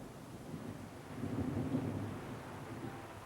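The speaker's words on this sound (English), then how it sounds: "and the rain began to fall." Rain starting to fall in a storm, a steady wash of noise with a low thunder rumble swelling in the middle, fairly faint and with no voices.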